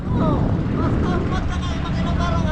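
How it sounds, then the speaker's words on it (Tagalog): A big engine runs nearby with a loud, steady low drone and rumble that holds throughout, while people talk over it. "Ayun yung malaking makina dyan ano"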